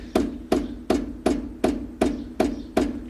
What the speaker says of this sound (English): now hammering screws